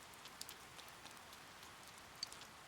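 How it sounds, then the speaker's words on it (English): Rain falls in the video game Persona 4 Golden, a faint, steady patter with scattered brighter drop ticks spread across a quiet background. "Oh, this rain. I hate rain."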